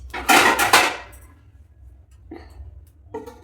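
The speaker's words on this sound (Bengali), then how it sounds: "এই দেখো, ঢাকনাটা দিয়ে দিচ্ছি" A lid set onto a cooking pot while an eggless date-palm jaggery cake cooks inside: a loud, close metallic clatter and rattle, then two softer knocks as the lid settles.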